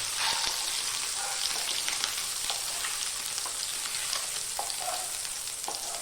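Salted, boiled potatoes frying in ghee: a dense, even sizzle with occasional sharp pops and crackles, close and steady throughout with no talking.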